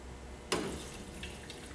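Water is poured into a coffee pot, starting abruptly with a close splash and continuing as a short, soft trickle.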